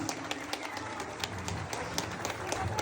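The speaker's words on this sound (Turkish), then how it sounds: "Daha güçlü alkışlar çiftimiz için gelsin" Guests applaud the engaged couple at a Turkish engagement ceremony, a moderate wash of clapping with scattered sharper claps and a low background murmur.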